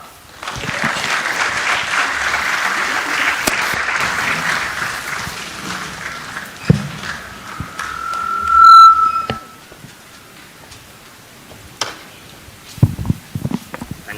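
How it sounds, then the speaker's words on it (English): Warm audience applause fills a business leaders' summit hall, a steady dense patter of many hands that rises into a swell, then thins out into scattered claps and a few isolated footsteps near the end. "can you give me also a warm clap?"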